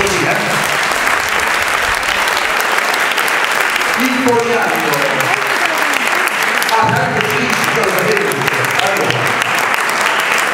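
At a choir concert, the audience gives loud, sustained applause from many hands, with voices talking over it midway and near the end.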